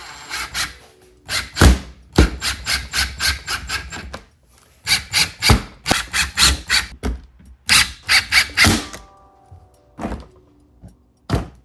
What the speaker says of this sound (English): Now we drill some pilot holes